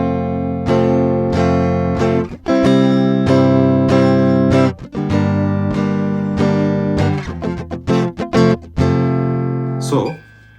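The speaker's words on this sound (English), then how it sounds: "soon you'll be interested in playing bar chords, which sounds like this." Strummed bar chords on a Kramer Focus VT-211S electric guitar ring out in several rhythmic chord changes, loud and close, with a few muted scratches near the end and no talking.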